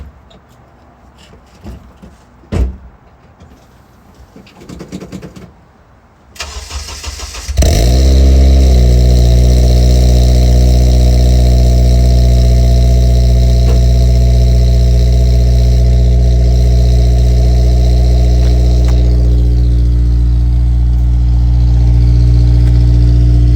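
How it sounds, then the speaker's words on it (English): A 2008 Honda Civic Si with a PLM header, Yonaka muffler and Magnaflow high-flow cat cold starts after days sitting: brief handling noise, a cranking catch, then a loud, steady high idle drone that holds close and constant. "Let's get a little cold start. It hasn't ran in maybe about 2 or 3 days, so let's see how she sounds."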